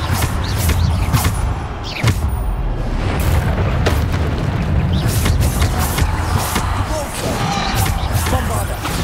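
Repeated booming blasts of the Bombarda explosion spell in the Hogwarts Legacy video game, loud dense bursts over continuous combat noise with no voice.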